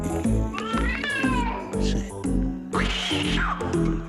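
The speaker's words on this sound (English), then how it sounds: "Cats." Several cats meow repeatedly in a comedy stage sketch, rising and falling yowls close and loud, with a stretched caterwaul near the end; crowd noise sits underneath.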